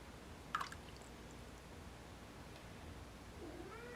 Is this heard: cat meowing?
yes